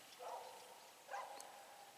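A dog barks at people walking past on a farm with llamas, two short barks about a second apart, faint and distant in a quiet outdoor morning.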